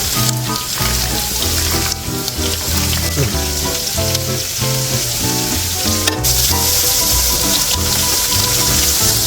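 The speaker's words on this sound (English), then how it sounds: "my water's starting to boil" Water coming to a boil in a pot for potatoes on a stove, a steady loud bubbling and sizzling that runs continuously and close up throughout.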